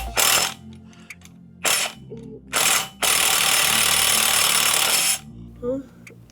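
An impact wrench works on a 1957 Chevy, firing in several loud, harsh rattling bursts of varying length, with one long sustained hammering run, all close up with brief quiet gaps between.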